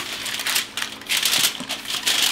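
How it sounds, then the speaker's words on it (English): Aluminum foil crinkles and crackles in short bursts, close and fairly loud, with brief pauses between the rustles, as it is laid over a keto lasagna before baking. "Now we're going to put some foil on it"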